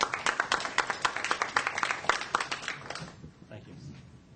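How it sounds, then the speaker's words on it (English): Applause from a school district board meeting audience, a burst of many hands clapping at moderate distance that fades out after about three seconds, leaving faint room noise and murmuring. "Can we give him a round of applause, please?"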